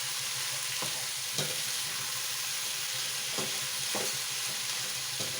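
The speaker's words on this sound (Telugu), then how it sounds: "బాగా కలబెట్టుకోవాలి" Ivy gourd stirred with turmeric and salt in a hot pan: a constant bright sizzle broken by several sharp scrapes and knocks of a spoon against the metal, spaced a second or so apart.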